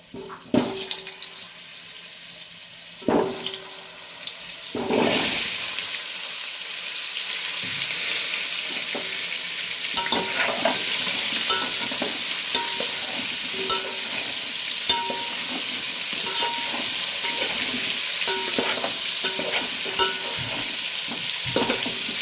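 Small potatoes fry with turmeric in a pan for a mutton dum, stirred repeatedly with a spatula, so sharp scraping knocks break through a steady, close sizzle that runs the whole way with no talking.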